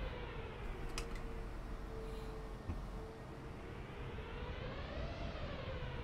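An Airbus A320 taxis toward the runway in Microsoft Flight Simulator, its engines giving a steady low rumble and a sustained whine that slowly rises in pitch, with a faint click in between.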